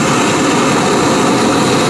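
A FireMaple Trident butane stove burner running with its flame up, giving a steady, loud, even roar and hiss that holds without a break.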